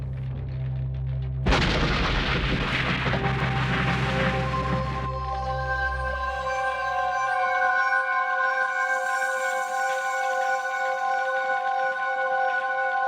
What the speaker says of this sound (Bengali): ঠিক আছে, 3 ব্লাস্ট হবে।